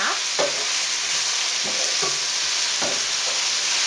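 Steady sizzling of vegetables sautéing in a pan, with repeated scraping stirs of a utensil every second or so, close and continuous.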